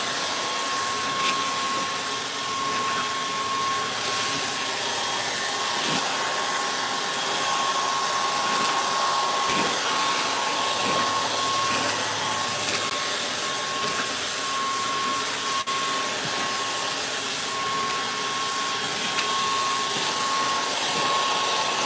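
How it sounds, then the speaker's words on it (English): A hair dryer blows on a wig with a continuous, loud whirring drone and a steady high whine that runs the whole time, its airflow shifting slightly as it moves. "Now we're done blow drying."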